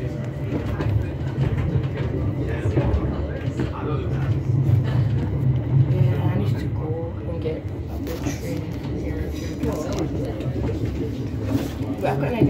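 A ScotRail train runs near Mount Florida with a steady low rumble and rhythmic rail clatter, while people talk nearby throughout.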